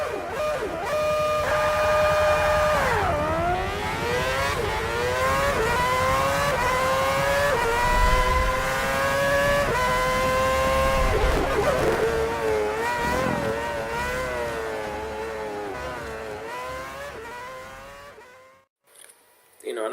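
Racing car engines in the video game Forza 5 rev and whine, pitch sweeping up and down through gear shifts, loud and continuous, then cutting to near silence at the end.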